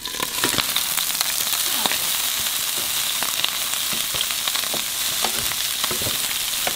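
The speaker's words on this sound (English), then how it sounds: "we got some Brussels sprouts cooking up in this beast" Brussels sprouts fry in bacon or ground beef fat, a steady dense sizzle with scattered sharp crackles and pops running throughout, close and fairly loud.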